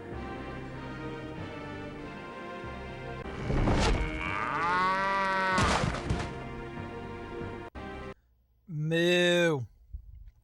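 A cow in The Journeyman Project 2: Buried in Time lets out two drawn-out, wavering moos. The first is longer and the second comes after a short silence, both above a faint background hum.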